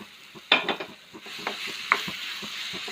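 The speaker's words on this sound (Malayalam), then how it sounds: "അപ്പോൾ 2 പഴം നമുക്കൊന്ന് വാട്ടിയെടുക്കാം" Two ripe plantains are sautéed in a small, crowded pan, with a steady sizzle under spatula scrapes and a few sharp metallic clinks, close and alone.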